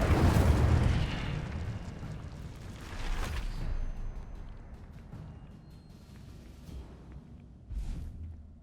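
The Incendio fire spell goes off in a video game: a loud whooshing burst at the start that rumbles and fades, followed by two more softer flaring bursts, with no talking.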